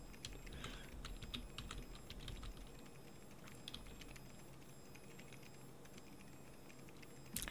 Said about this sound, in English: I think if he hit that keyboard any harder, he might explode on him.